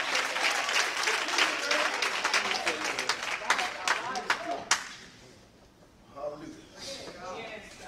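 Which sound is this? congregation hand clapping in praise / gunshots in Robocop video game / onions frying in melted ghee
congregation hand clapping in praise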